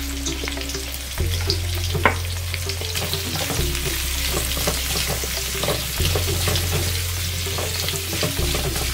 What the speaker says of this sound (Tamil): இது நல்லா பொன்னிறமாக ரோஸ்ட் ஆகட்டும்.